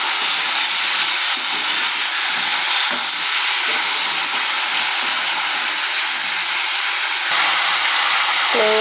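Turmeric and salt being stirred in a hot pan, a close, loud, continuous frying sizzle and hiss with scraping stir sounds, and no voices.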